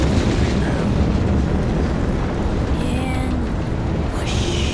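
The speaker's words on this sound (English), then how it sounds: "Solid propellant engines burning." A rocket launch sequence in the video game Cyberpunk 2077, with the solid propellant engines burning as a loud, steady, broadband roar that fills the whole clip, with faint tonal sweeps near the end.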